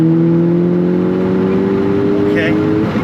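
Stage 1 tuned Mk6 Volkswagen Golf GTI revving and pulling hard, a loud sustained engine drone heard from inside the car with a steady rising tone.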